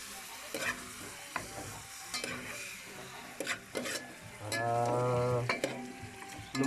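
Meat frying with garlic and onion sizzles steadily in a pan while being stirred, with spatula scrapes and light pan clatter up close and no talking.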